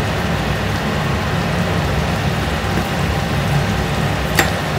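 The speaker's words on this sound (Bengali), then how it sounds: "এবার এটাকে ভালো করে ভেজে নেব যতক্ষণ না পেঁয়াজটা ওই বাদামি বাদামি কালারের হবে" Onions with a little salt and turmeric frying in oil, a steady, even sizzle throughout with one faint brief click near the end, close and unbroken.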